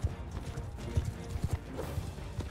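Horse hooves in the medieval battle game Mount & Blade II: Bannerlord, a rapid series of dull thudding clip-clops close by, uneven in rhythm like several mounts moving together.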